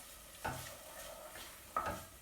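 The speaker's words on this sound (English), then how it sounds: "I'm just checking on the onion and celery, and it's cooking down quite nicely." Onion and celery cooking down in a pot for an autumn soup, giving a quiet steady sizzle with two brief stirring scrapes, close and alone with no talk.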